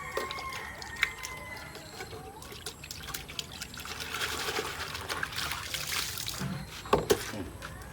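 Water trickles and splashes softly outdoors on a summer outing at Palompon, a steady gentle dribble with scattered small splashes and knocks, moderately faint.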